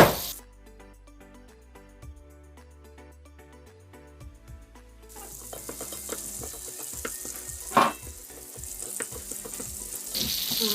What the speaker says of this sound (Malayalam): നമ്മൾ നേരത്തെ മിക്സ് ചെയ്ത ആ മസാല ഇവിടെ കുറച്ച് മാറ്റി വെച്ചിട്ടുണ്ട് നമുക്ക് ഈ എണ്ണയ്ക്കകത്തേക്ക് ഇതും ജസ്റ്റ് ഒന്ന് ചൂടാക്കി എടുക്കാം